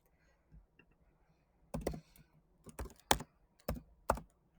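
Answers being typed on a computer keyboard: a few quiet, separate clusters of close key clicks and taps with short pauses between them, in a quiet room.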